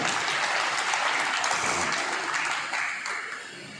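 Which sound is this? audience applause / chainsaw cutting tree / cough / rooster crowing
audience applause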